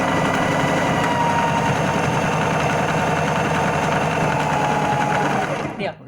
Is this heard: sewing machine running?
yes